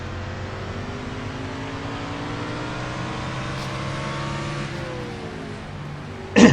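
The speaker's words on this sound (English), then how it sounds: "Riding with Dylan Young in the number 2 machine" The number 2 Miller Lite Ford race car in a racing video game at the STP 500 drones steadily with a sustained engine tone, the pitch slowly shifting as it runs through the turns.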